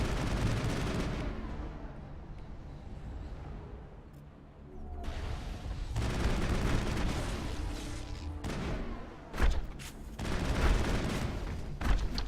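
Sniper rifle fire from the Mass Effect video game, heavy booming shots and blasts over a dense battle soundscape, with a few sharp louder reports standing out near the end.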